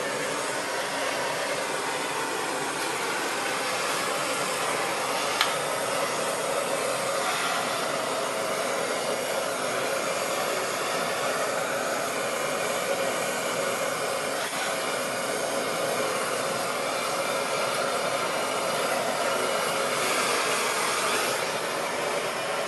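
A forge burner roars while a knife blade is heat treated, a steady, loud, broadband rushing hiss that holds constant throughout with no voices.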